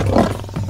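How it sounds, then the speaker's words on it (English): A lion gives a single short, loud, throaty roar close up, lasting under a second. "roaring like a lion"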